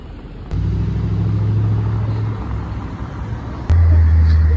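Car with diplomatic plates pulling away on a Paris street, its engine a low steady rumble that swells louder near the end, fairly close.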